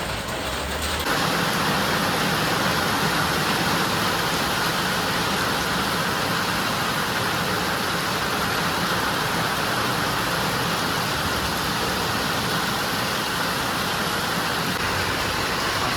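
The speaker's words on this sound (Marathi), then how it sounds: "आज भरपूर पाऊस आहे" Heavy rain pours down outdoors at a work site where a goods vehicle is being unloaded, a dense, steady roar that holds at the same loudness for the whole stretch with no voices.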